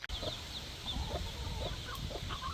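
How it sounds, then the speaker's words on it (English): A mother hen with week-old chicks makes soft, repeated clucks in a farmyard, close and steady over a continuous outdoor background, with faint higher chick peeps scattered through. "I'm gonna pop in a little video of our mama chick with her babies"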